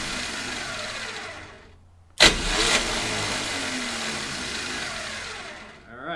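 A junkyard 1969 Dodge Charger dirt track car with a 440 engine gets a quick starter bump that fails to engage: one short, loud burst of mechanical noise cuts in, then a steady hum trails off.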